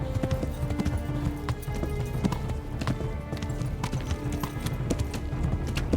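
Horse hooves clip-clop steadily in the video game Kingdom Come Deliverance, a continuous rhythmic trotting over a dense, busy background with no clear voices.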